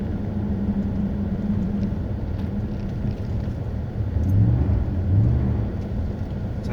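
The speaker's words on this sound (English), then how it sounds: "I'm going to put on the brakes." Pontiac Grand Prix GXP braking hard without ABS, its front wheel locking up: steady low road and engine rumble that swells briefly twice toward the end, no talk.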